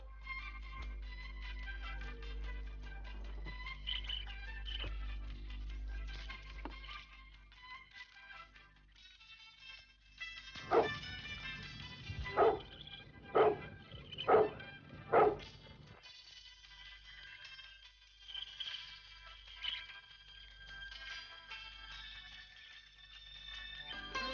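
Dogs barking at a large mansion, a quick run of several loud barks in the middle, surrounded by quieter ambient sound and light background music.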